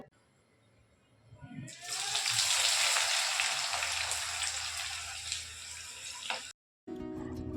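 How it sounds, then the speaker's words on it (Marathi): Onions for biryani hit hot oil and break into a loud, steady sizzle that rises sharply, holds for several seconds and then cuts off abruptly. "तुम्हाला आवाज आलाच असेल सर्वप्रथम मी इथे कांदा तळून घेत आहे"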